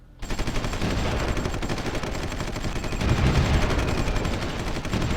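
Artillery and gunfire in the strategy game Supreme Ruler Ultimate, a dense continuous barrage of booms and rattling shots, loud and sustained with a swell near the end.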